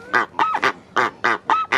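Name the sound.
goose honking at a bird farm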